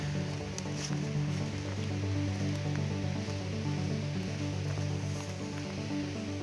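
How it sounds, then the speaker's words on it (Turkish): Water from the Holfossen waterfall in Norway, heard from above, gives a continuous, even rushing roar, steady and fairly loud throughout, with no voices over it. "Burada su sesi geliyor ama tabii ki çok şiddetli değil artık çünkü şelale aşağıda kaldığı için."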